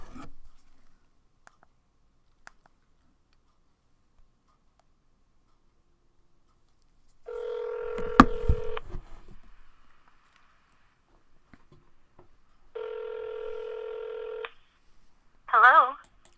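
A telephone number is dialed by touch-tone, giving two steady beeps of about a second and a half each, followed by a short warbling tone, all alone in a quiet room.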